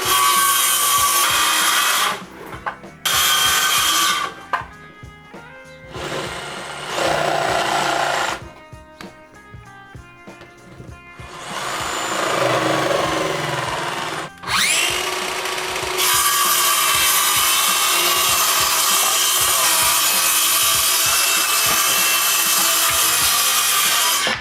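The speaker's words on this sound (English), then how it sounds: "Now I'll just freestyle this most of the way using the circle saw" Circular saw freehand cutting wood for a serving tray, in several loud bursts: the blade whines up, rasps through the board, then drops off into short quiet gaps before the next long cut.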